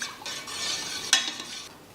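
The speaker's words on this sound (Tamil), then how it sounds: "தண்ணி நல்லா கொதிக்க ஆரம்பிச்சிருச்சு." Water heats in a cooking pot for a breakfast dish, giving a steady bubbling hiss with one sharp clink of a utensil partway through, close and moderately quiet.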